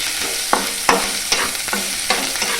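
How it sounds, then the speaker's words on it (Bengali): Chopped onions stir-fried in a pan, a constant close sizzle broken by five or six sharp spatula scrapes at roughly half-second intervals, no talking. "পেঁয়াজ কুচি এগুলোকে আমি হালকা করে ভালো করে নাড়াচাড়া করে একটু ভেজে নিলাম"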